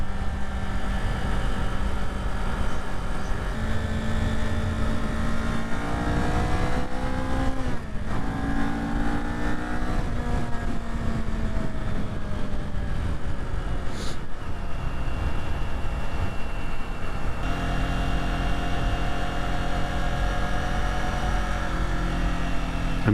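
A Kawasaki Z400 motorcycle engine pulls hard along a twisty mountain road, its revs rising and falling through several gear changes in a steady, loud drone with wind noise and no talking.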